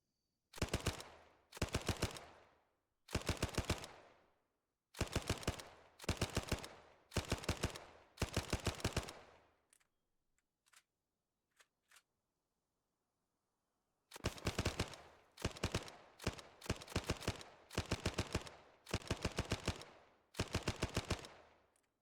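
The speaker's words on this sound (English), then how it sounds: "And that was the M3 grease gun." An M3 grease gun firing in Arma 3: repeated short bursts of rapid automatic fire, crisp and loud, with a quiet gap of a few faint clicks before more bursts resume.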